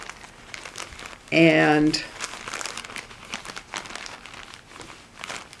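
A plastic bag crinkles loudly for a moment while being handled, with someone talking before and after.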